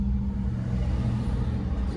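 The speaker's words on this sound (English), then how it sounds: "I'm literally stuck in traffic." Road traffic rumbles steadily from inside a car caught in a jam, a low, continuous engine and road drone with no voices.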